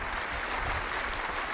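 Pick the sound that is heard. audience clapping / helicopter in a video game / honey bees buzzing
audience clapping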